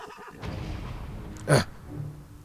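A horse neighs in the Muv-Luv photonmelodies visual novel, one short bright whinny burst standing out over a soft rustling background, brief and fairly close.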